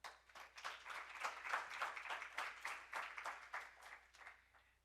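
A university audience gives faint, distant applause at an evening academic panel, a steady patter of many hands that swells and then fades away.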